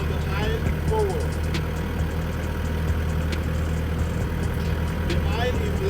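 Forklift creeping slowly forward down a warehouse aisle, a steady low engine drone with mechanical hum running throughout, a voice speaking over it.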